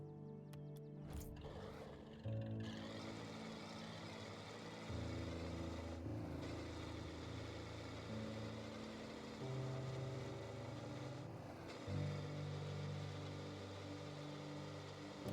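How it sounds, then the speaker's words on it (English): A Rocket League car's engine drones as a low, steady hum with shifting pitch steps, tank-like and quiet, with a few brief mechanical clicks near the start and no talking. "let's take a listen to the engine sound as well"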